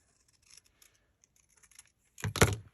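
Paper being cut with scissors for a nature-themed paper embellishment, a short crisp snip-and-slice burst near the end after faint rustling and handling.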